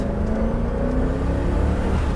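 A 2001 Jeep Grand Cherokee engine under full throttle gives a loud, close, steady low drone with a rising mechanical whir, heard alone.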